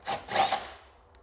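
A short tool burst works at a damaged bolt on the wing of a Mk2 Audi TT, two quick grinding rasps close by that fade out within about a second.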